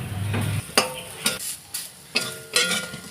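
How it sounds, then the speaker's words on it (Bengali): Lentil dal bora fritters fry in a shallow layer of oil in a kadai, a soft sizzle broken by several sharp spatula scrapes and clinks against the pan, close and fairly loud. "বড়াটা ওখানে ভাজা হচ্ছে"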